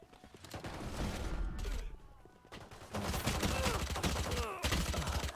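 Frenzy pistol gunfire in the Valorant video game, rapid bursts of shots in quick fusillades separated by short pauses, loud and close, mixed with game effects.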